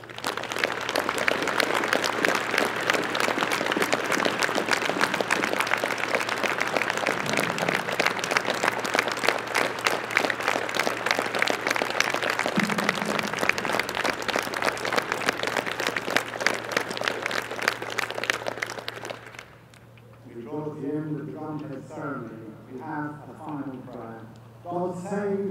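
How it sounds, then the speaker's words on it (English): An audience at an Air Training Corps flagship parade applauds in a long, loud, dense wave of clapping that holds for about twenty seconds, then gives way to someone speaking. "invite all the guests and the audience to offer their applause and their recognition for what you have achieved today"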